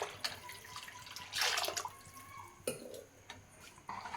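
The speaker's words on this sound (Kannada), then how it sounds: "ಇನ್ನೂ ಸ್ವಲ್ಪ ನೀರು ಜಾಸ್ತಿ ಹಾಕ್ತಾಯಿದ್ದೀನಿ." Water poured into a pot of sprouted horse gram sambar (bassaru) comes in a couple of short, soft splashing bursts, quiet and close, with small clinks between and no talking.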